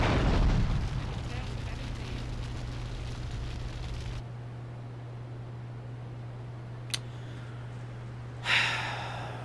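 A Patriot vehicle blows up in GTA 3: The Definitive Edition, opening with a loud, heavy boom that decays into a rumbling drone, followed later by a sharp click and a short burst of noise.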